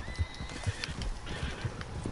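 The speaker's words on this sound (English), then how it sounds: "There's the other horse." Horse from the Red Dead Redemption 2 video game running with a herd, with a few soft hoof thuds and faint whinnying at moderate distance, no talk.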